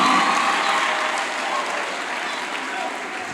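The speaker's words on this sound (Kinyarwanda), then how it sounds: "Yikomera amashyi menshi cyane." Sustained applause from a congregation at a lively church gathering, a dense steady wash of many hands clapping that slowly eases in level, with faint voices mixed in.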